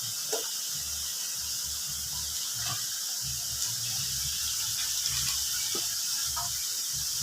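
Water running steadily into a cooking pot while making homemade macaroni soup, a continuous hiss-like rush with small clinks and splashes, close by and alone without talk.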